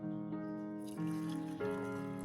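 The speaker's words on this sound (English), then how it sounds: "Next, I add it directly to about 500 milliliters of hot water" Freshly boiled hot water is poured over about a spoonful of coffee grounds, a soft continuous trickle and splash heard close up and fairly quiet, with no talking.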